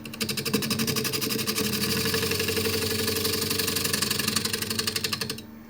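A spindle gouge cuts into wood spinning on a lathe, giving a steady, loud, rapidly pulsing whir with a buzzy rhythmic texture that holds even before fading out abruptly at the end.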